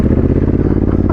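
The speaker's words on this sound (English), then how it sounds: "I hit the back brake then, it started sliding into the little gutter bit." A Honda Africa Twin adventure motorcycle skids as the rear brake locks, sliding toward a small roadside gutter; a loud, continuous engine and tyre rumble fills the short moment, close and steady throughout.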